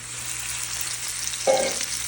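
Chopped pork meat frying in rendered pork fat in a pan gives a steady, close sizzle, with a short metallic scrape midway. No voices.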